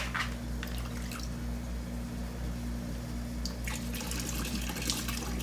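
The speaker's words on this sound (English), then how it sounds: "And I'm dripping all over the floor." Water drips and trickles onto a concrete garage floor in a few scattered bursts of wet spatter over a constant low electrical hum, no talking.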